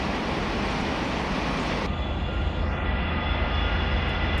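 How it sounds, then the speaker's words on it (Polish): A Voith Maxima 40 CC diesel locomotive in Train Simulator Classic accelerating at full power while hauling heavy wagons: a steady, loud, broad engine roar with rail rumble underneath, continuous and alone. "Tak jest, lokomotywa się już rozpędza"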